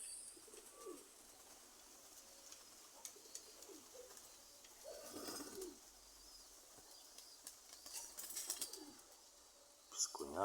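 Pigeons, young birds among them, coo softly in scattered calls over a windy summer evening in Izmail, Odesa region, with gusts and faint background murmur.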